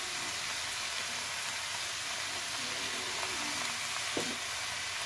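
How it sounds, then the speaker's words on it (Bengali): Hard vegetables, then softer ones with salt, sizzle steadily in a hot pan while being stirred, a continuous close frying hiss with a brief clatter near the end. "প্রথমে শক্ত আনাজগুলো একটু নেড়ে নিয়েছি, তারপরে নরম আনাজগুলো দিয়ে নুন দিয়ে দিলেই জল বেরোবে"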